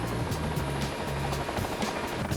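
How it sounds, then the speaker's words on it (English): A Coast Guard helicopter comes in for a running landing during a simulated tail rotor failure, its rotor thumping in a steady, fast beat under a constant turbine roar, close and loud without voices. "This is a simulated tail rotor failure, in which the pilots have to practice a technique that allows them to land an aircraft with a failed tail rotor."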